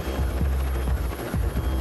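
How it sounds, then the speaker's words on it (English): A military troop-carrying helicopter flies by, its rotor blades thumping in a steady rhythm under a constant engine whine, moderately faint. "Troop-carrying helicopters can carry out landings far from enemy defenses with speed and precision."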